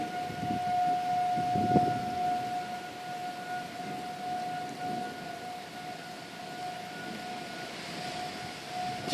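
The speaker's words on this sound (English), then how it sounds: "And the sirens are getting louder." Tornado civil defense sirens wail outdoors in Bartlett, Tennessee, during a storm, a steady sustained tone holding across the whole stretch with a rumbling, rain-like wash of outdoor noise beneath it.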